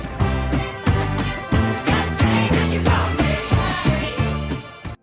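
A 1979 rock recording, full and loud, with heavy pounding drum hits in a steady rhythm driving a dense band mix.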